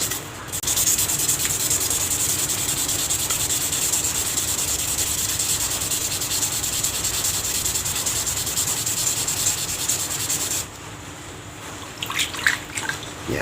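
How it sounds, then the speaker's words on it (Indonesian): Close, steady rubbing of sandpaper by hand on a fishing rod, continuing for several seconds, then stopping, followed by a few light handling sounds. "lakukan pengamplasan sampai benar-benar rata dan halus"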